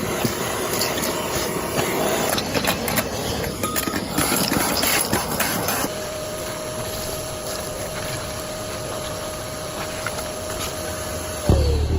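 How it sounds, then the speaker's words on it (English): A shop vacuum roars steadily while sucking debris out of the engine bay of an M4 Sherman tank being refitted with a DEUTZ V10, with rattling clatter in the first half, then a steady drone that cuts off near the end. "I'll vacuum out what I can first"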